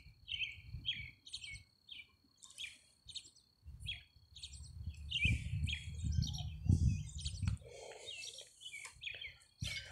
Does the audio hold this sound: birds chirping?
yes